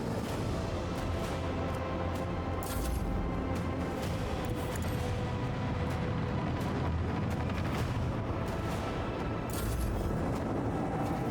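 Starship guns firing in the Warhammer 40,000 video game Rogue Trader, a dense, continuous barrage of heavy booming blasts and rumbling impacts that stays loud throughout, with no speech.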